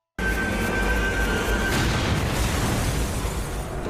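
A bus explosion: loud and sustained, with a deep rumbling roar that begins abruptly and keeps thundering for several seconds.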